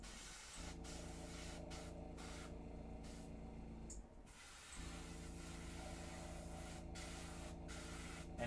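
An airbrush sprays paint over a miniature crystal objective marker, a close steady hiss in short bursts with a brief pause midway, over a constant low compressor hum, with no voices.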